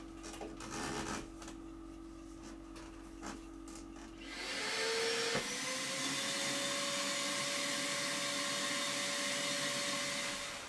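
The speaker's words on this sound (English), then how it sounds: "I'm going to scrub with Dawn, rinse, and vacuum again." A vacuum cleaner starts partway through, after some faint handling noise, and then runs as a loud, steady, close whine until the end, with no talking.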